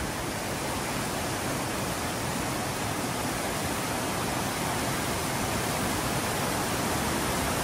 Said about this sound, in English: there it is, Watson Falls.